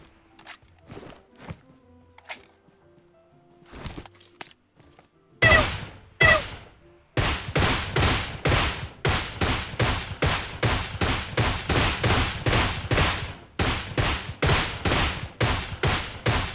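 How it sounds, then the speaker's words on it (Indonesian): Gunfire from the right in PUBG Mobile: scattered single shots at first, then a long run of loud, rapid bursts with a steady rhythm. "Oh, ada yang nembak dari kanan."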